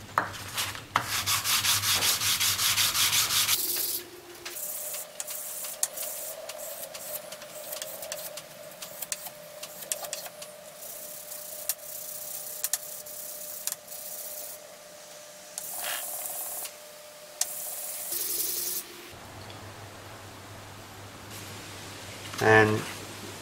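Worn 00-grade emery cloth rubbed steadily against a metal dial indicator part, giving a continuous close scratchy rasp for most of the stretch, with a voice talking before and after the rubbing.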